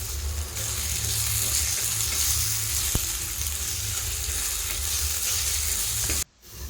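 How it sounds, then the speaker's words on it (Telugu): Drumstick pieces added to an onion-tomato curry base for Andhra-style chicken curry fry with a loud, close, steady sizzle under constant stirring, ending in an abrupt drop near the close. "ఇప్పుడు మనం తీసుకున్న మునక్కాయ ముక్కల్ని కూడా వేసుకొని బాగా కలుపుకోవాలి"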